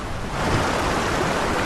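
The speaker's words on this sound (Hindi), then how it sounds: "बारिश का पानी बाढ़ में बदल गया।" A steady, broad roar of rushing water, continuous and loud with no pauses, like a heavy flood surge nearby.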